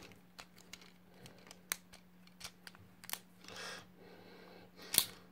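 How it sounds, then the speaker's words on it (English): Transformers Energon Constructicon toys being transformed give a scattered series of sharp plastic clicks and ratchets, uneven in rhythm, close and fairly faint, with one louder snap near the end. "you hear the ratcheting of everyone"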